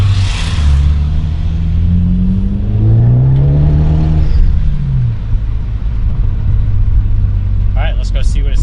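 A Ford Focus ST fitted with a GReddy catback exhaust, heard from inside with the windows down: a loud, deep exhaust rumble that rises in pitch as the engine revs and then settles back to a steady drone.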